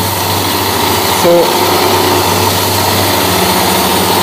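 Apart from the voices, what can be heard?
whirling shaft experiment apparatus running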